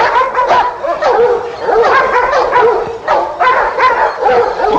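A dog barks and yips repeatedly in loud, close bursts with whimpering tones between them, in a 1952 historical adventure film scene.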